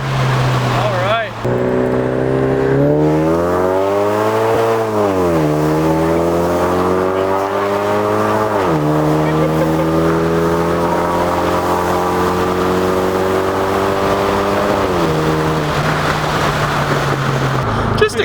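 A Ford Mustang engine pulls hard through the gears, its tone climbing steadily and then dropping briefly at each shift before rising again, loud and close as from inside the car throughout.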